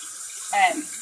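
Tap water runs briefly over bell peppers held under the stream, a short splashing burst over a steady faint hiss.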